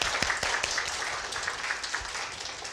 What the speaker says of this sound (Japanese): 前田さんに拍手をお願いします